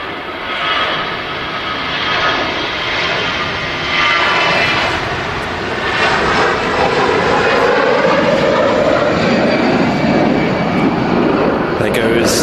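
A Jet2 Airbus A321 jet takes off, its engines producing a loud, steady broadband roar that swells and holds across the whole stretch, with a faint voice underneath.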